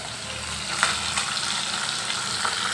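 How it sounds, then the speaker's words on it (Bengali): Bele fish frying in a pan, a dense continuous close sizzle of hot oil with a few soft pops and faint stirring scrapes. "মাছটা ভাজা বসিয়ে দিয়েছি"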